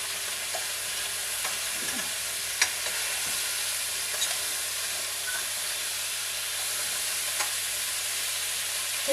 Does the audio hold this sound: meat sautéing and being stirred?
yes